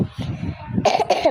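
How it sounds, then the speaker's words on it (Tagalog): A person coughs close by, a few short throaty bursts followed by a rougher, louder cough with a slight vocal edge at the end. "inuubo kasi ako"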